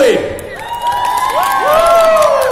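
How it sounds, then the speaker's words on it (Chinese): A crowd at a weekend singer show in a Mong Kok shopping mall cheers for two guests, with rising whoops and shouts over a bed of crowd noise, loud and close throughout. "两位嘉宾，俾掌声鼓励"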